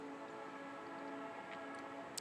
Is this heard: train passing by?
yes